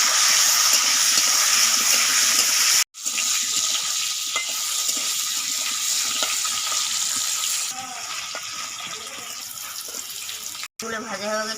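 Chicken pieces fry in hot oil with salt and turmeric, cooked outdoors during rain, giving a loud, continuous sizzling hiss with two brief cuts to silence.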